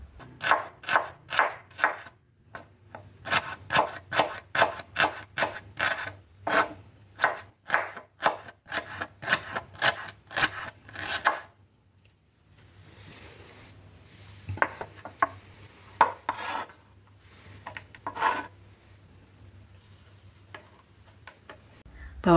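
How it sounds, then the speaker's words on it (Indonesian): Knife thinly slicing shallots on a cutting board, a fast steady run of crisp close taps for about eleven seconds, then quieter scattered cuts and rustling. "Bawang merah sudah diiris-iris tipis, sisihkan terlebih dahulu."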